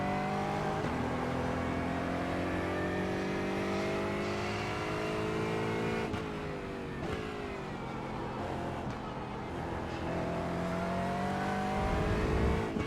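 An Aston Martin GT4 race car in the iRacing sim at Winton Raceway, its engine droning steadily at high revs, with gear shifts and rising pitch sweeps on acceleration, alone and close-up.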